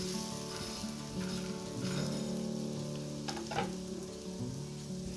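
An aloo paratha fries in oil in a pan, giving a steady close sizzle with faint crackles and brief scraping touches throughout.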